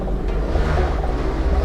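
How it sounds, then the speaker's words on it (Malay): A motorcycle engine runs next door beside a house, heard as a steady, low, continuous rumble from a short distance. "Ada orang main motor pula kat sebelah rumah ni."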